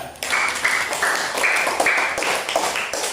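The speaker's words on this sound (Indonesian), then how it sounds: "Beri tepuk tangan untuk kelompok 3." A classroom applauds group 3, a short burst of brisk, fairly even group clapping with a few louder claps standing out, and no talk over it.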